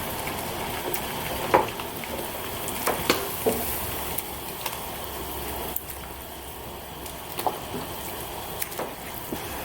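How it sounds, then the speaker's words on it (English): A pot of water with pork bones boiling steadily, a continuous bubbling hiss with occasional small pops and clinks, close and moderately loud. "So we have our pot boiling here."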